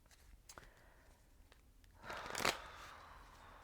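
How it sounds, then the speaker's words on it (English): Tarot cards shuffled by hand, faint soft riffling and slipping with a brief louder flurry near the end, quiet and close with no talk. "I'm just going to continue shuffling as I speak."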